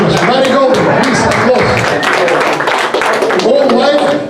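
Steady clapping rises from a Community First Republican Club audience welcoming Senator Marty Golden, a thick close-up patter of many hands mixed with people talking and calling out.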